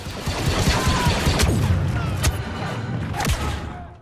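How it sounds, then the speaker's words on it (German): Enemy blaster fire in Star Wars Battlefront 2: a dense fusillade of rapid shots and booms, with several sharp whizzing bolts cutting through a loud, continuous battle din. "Okay, die schießen doch auf uns."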